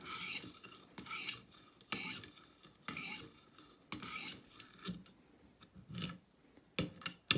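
A Stonehocker Kodiak knife is drawn across a knife sharpener in repeated rasping passes, about one per second, each a bright gritty scrape with short pauses between, close up and without talk.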